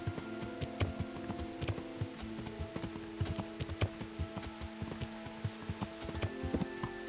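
A horse in the video game Kingdom Come: Deliverance, its hooves clopping in an even walking rhythm, moderately close, over a sustained tonal hum from the game.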